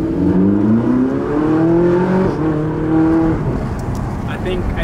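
A naturally aspirated supercar engine revs loudly and steadily, its pitch rising and falling across several pulls, with the drone close by and unbroken throughout.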